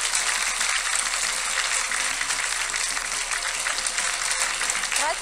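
Studio audience at a televised quiz show breaking into steady, dense applause, loud and continuous for several seconds with no talking over it.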